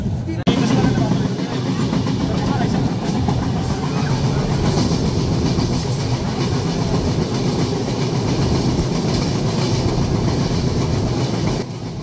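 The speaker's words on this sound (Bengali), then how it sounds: "ট্রেনটি এখন পার করে যাচ্ছে মধুমতি নদীর ওপর নির্মাণ করা railway bridge, Madhumati railway bridge." A train crossing the Madhumati railway bridge over the Madhumati river gives a loud, continuous, close rumble with rhythmic wheel clatter that holds steady throughout.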